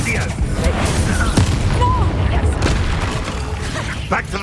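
The Incendio fire spell bursts in Hogwarts Legacy combat, a few booming, crackling impacts over a rumbling game soundscape, with a player's voice talking over it in places.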